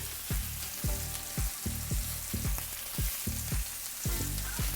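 Loud steady sizzling and frying of a ribeye steak in a pan, with regular thumping knocks underneath, close and continuous with no speech.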